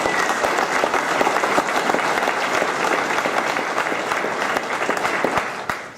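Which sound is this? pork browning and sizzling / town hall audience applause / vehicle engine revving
town hall audience applause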